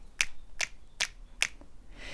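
Finger snaps used as percussion in a music track sound as four crisp, evenly spaced snaps roughly every 0.4 seconds, close and clean over a quiet background.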